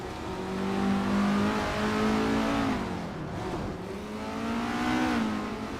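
A 1978 Avia AE2 race car engine drones steadily at speed during a race, its tone rising and falling with gear and throttle changes, loud and close throughout.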